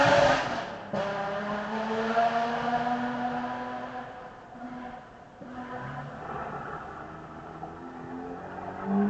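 Rally car leaving the start of a stage at the Tour de Forest 2024 rally, its engine revving hard through rising gear pulls after a sharp launch, loud and close at first, then fading as it moves away.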